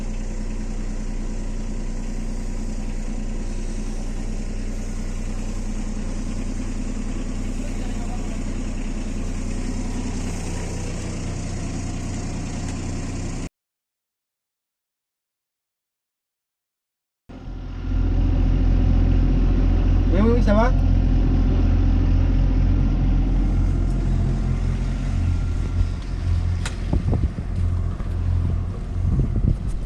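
A boat engine drones steadily with wind buffeting the microphone, cuts out briefly, then resumes louder; a voice speaks briefly.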